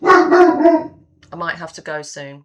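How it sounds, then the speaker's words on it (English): A big dog barks several times in a loud rapid burst close by, then a person speaks. "Apologies if you can hear barking."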